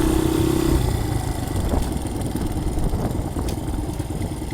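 A dirt bike engine runs close by with a low, rough, steady rumble and slight rises in revs, with no talk over it.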